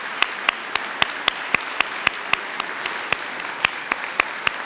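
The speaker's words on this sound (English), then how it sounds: "let's give one more round of applause for the heroes of our greatest generation." An audience at a victory gala applauds World War II veterans, with steady clapping punctuated by a few sharper, louder individual claps close by, and no talking.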